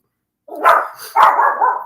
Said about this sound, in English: No, not my dog barking.